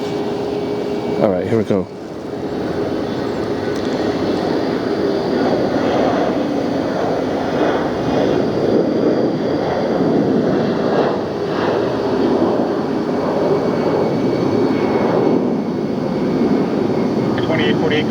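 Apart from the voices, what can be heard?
Airbus A319 jet taking off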